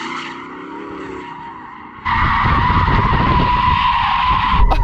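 A four-wheel-drive Porsche Cayenne GT SUV slides through donuts with loud, continuous tyre skidding and engine roar, starting moderate and then jumping to a sustained, harsh screech for the remaining seconds.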